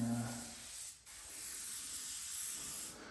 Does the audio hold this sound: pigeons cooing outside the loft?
no